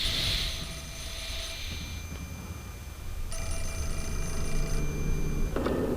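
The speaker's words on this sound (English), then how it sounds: "Okay, the phone's ringing." A telephone rings in the horror video game Fatal Frame 4, repeated electronic bell trills over a low droning ambient rumble, moderately loud with no voices.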